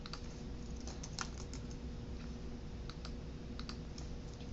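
Keys clatter in steady bursts of typing as form details are entered on a computer keyboard, fairly quiet over a constant low hum with no one talking.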